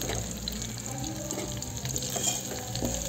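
Curry leaves fry in hot oil in a pan for tomato carrot rasam, giving a steady, close sizzle with faint watery crackle throughout and no talking.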